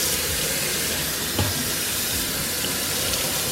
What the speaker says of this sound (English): Cold water, and then commence the washing off the shrimp.